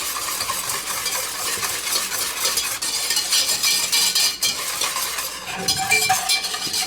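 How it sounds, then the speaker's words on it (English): Whisk beaten steadily through an eggnog base of eggs and sugar in a bowl, a dense, continuous scraping and clinking that carries on without pause. "We're going to whisk this just until everything is incorporated and the color is a pale yellow."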